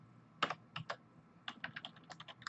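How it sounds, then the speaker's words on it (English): Computer keyboard keys are pressed while playing Roblox, a few separate clicks followed by a quicker run of light, close tapping, with no talk. "I'm pressing the WASD keys and nothing's happening"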